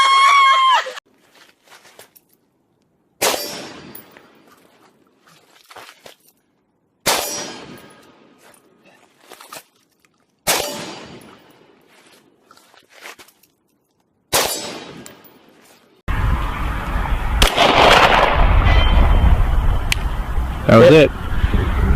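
A single handgun round fired at a target 300 yards away, heard as a sharp, sudden crack with a short ringing tail. Several similar bursts spaced a few seconds apart are followed by a steady, loud broadband noise.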